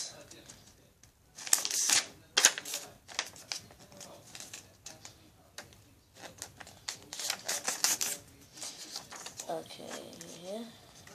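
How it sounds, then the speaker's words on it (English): Sheets of red paper being creased and folded into a TriStar, giving crisp crinkling and rustling bursts near the mic, with speech in between. "You want to fold it like this."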